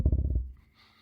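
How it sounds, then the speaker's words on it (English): A short, close burp with a rapid low rattling pulse that fades within half a second, followed by faint room noise. "Burping."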